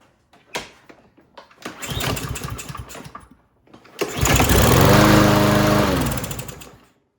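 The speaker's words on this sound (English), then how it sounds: "it's together enough that we can try to start it" A Craftsman M320 lawn mower after carburetor cleaning: a few clicks and a pull-start attempt that sputters, then a second pull that catches, with the engine running loudly for about two seconds before dying down.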